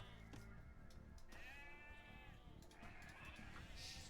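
Sheep bleating in Age of Empires II, several wavering bleats over a busy game soundscape, faint in level and mixed with other in-game noises.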